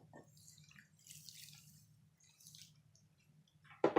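Sugar and water are poured over cut sweet potatoes, giving soft faint trickles and drips over a low hum, ending in a brief louder splash.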